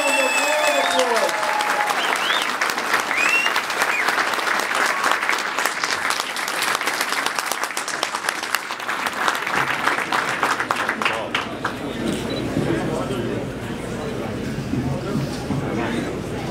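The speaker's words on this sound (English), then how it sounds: "let's welcome the Prime Minister of Albania, Edi Rama, with a round of applause" An audience gives Albanian Prime Minister Edi Rama a loud, dense round of applause at the Jewish Heritage Museum. The clapping starts full and then thins toward a softer, scattered patter with some crowd murmur near the end.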